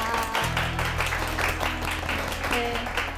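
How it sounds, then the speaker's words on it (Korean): Applause from a lecture-show audience greets a speaker taking the stage, lively clapping mixed with background music and a few faint voices, short and fairly loud throughout. "큰 박수로 맞이해주세요."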